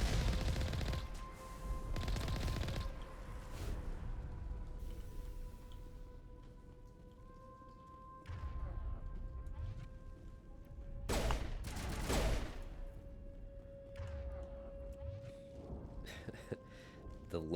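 Gunfire from the video game Mass Effect: bursts of rapid weapon fire crackle loudly in several clusters over a background hum and game tones, spread across the stretch with quieter gaps between volleys.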